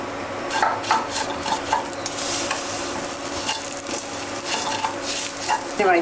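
Cashews and pistachios frying in oil in a pan, a steady crackling sizzle broken by repeated scraping and stirring strokes of a spatula, fairly loud and close.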